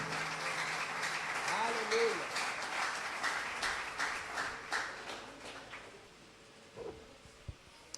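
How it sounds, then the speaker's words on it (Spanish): A church congregation breaks into applause, a dense burst of clapping that fades to scattered claps over several seconds, with a voice calling out over it. "Denle un aplauso al Señor."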